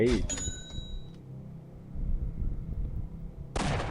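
Gunshots in the Roblox game The Chef Experience ring out as a sharp crack near the start and another burst near the end, with a ringing bell-like tone and someone talking in between.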